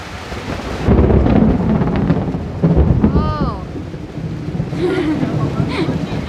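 Heavy rain hisses steadily while thunder rumbles low, with a faint bird call and brief muffled voices partway through.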